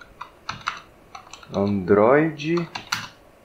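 Quick, irregular clicks of keys on a computer keyboard while searching for Android x86, typed in short bursts around someone speaking Portuguese mid-clip.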